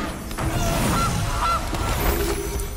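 A cartoonish goose honk from the Gilded Goose card in the MTG Arena digital card game, two short bright honks over a dense, steady game soundtrack with rumbling low effects.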